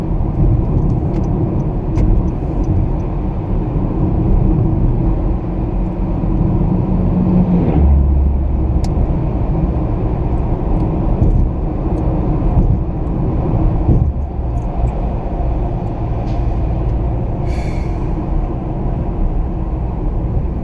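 Steady low rumble of a car driving, a constant engine and road drone that stays close and fairly loud throughout, with a brief deeper thump partway through and no talking.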